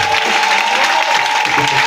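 A church congregation applauds in a dense, steady wash of clapping that keeps up throughout, with voices mixed in underneath.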